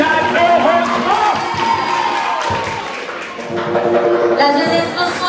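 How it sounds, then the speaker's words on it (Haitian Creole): An audience welcomes a singer onstage with applause, cheers and whoops, a loud crowd roar that dips briefly midway and swells again, with voices shouting through it. "je vous demande s'il vous plaît de l'applaudir chaleureusement"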